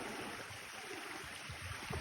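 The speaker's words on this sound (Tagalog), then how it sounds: "Maliit na lang yung tubig ng ilog." A low, shallow river flows on a mountain hike, making a faint, steady, continuous wash of water with no voices.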